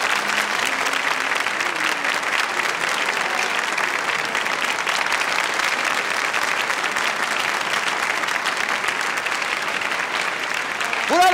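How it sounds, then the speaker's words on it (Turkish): Sustained, dense applause from a television studio audience for singers on a 1997 Turkish entertainment show, a steady roar of many hands clapping that holds evenly throughout with a faint pitched tone near the end. "Yine onun sanatçısı olan Ebru Yaşar ve ikisine gümbür gümbür bir alkış diyoruz."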